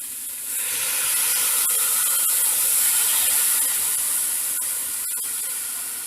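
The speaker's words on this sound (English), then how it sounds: "Now I'm going to add the coconut milk." Coconut milk poured into a hot pot of Trinidad curry corn with pigtails, a loud steady hissing sizzle that swells quickly and holds close, with a few faint clicks near the end.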